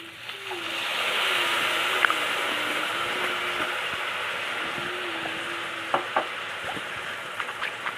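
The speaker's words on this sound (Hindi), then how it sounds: "अब इन सबको मिक्स कर लेंगे" Sauces being stirred into a paneer and capsicum filling in a pan: a soft, continuous scraping stir over a faint sizzle, with a few sharp clinks of the spoon against the pan near the end.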